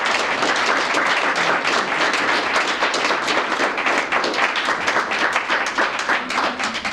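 Applause from an audience at a 1994 conference in Hamilton, Montana, with dense, steady clapping that keeps going at a constant level from start to finish.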